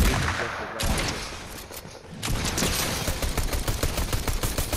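Shotgun blasts in a first-person shooter game, a rapid run of loud sharp reports, sparse at first and then a dense, evenly spaced volley, close and dominant.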